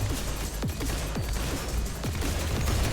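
Video game gunfire crackles in a dense mix of overlapping shots, with sharp reports scattered every half second or so over a constant noisy background of battle sounds.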